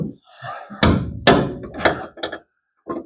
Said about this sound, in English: Let's see once if I can take my hammer chisel here.